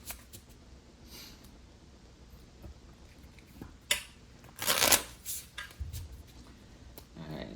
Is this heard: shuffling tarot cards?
yes